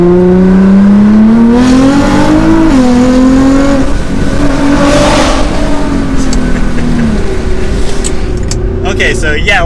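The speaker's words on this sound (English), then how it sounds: "we're getting on the highway, so we might as well have just a little bit of fun getting up to some speed" Nissan GT-R R35 pulling hard onto a highway, engine note climbing steadily through the revs with a brief dip at a gear change, then rising again, loud and sustained from inside the car.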